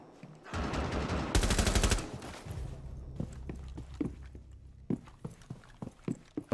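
Gunfire in the video game Rainbow Six Siege: a loud burst of rapid automatic shots, followed by scattered single sharp reports and thuds at irregular intervals.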